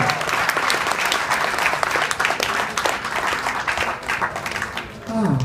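Audience applause at a Thailand election event, steady dense clapping from a crowd that runs for several seconds, loud and close, with a brief dip near the end before it swells again.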